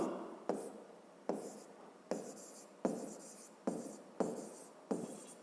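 Writing on a board during a physics lesson, seven distinct strokes with sharp attacks and short fading scratches at a regular pace, close and quiet, no talk.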